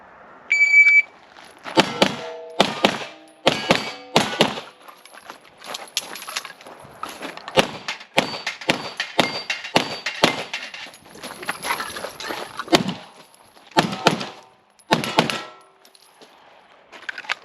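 Pistol shots fired at an outdoor shooting range, a string of sharp, loud cracks in quick bursts with short pauses between groups, some faint metallic clinks and pings between shots.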